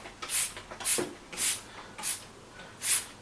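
A spray bottle mists water onto a dirt bike decal, five short hissing squirts at an even pace, close and clear with no speech.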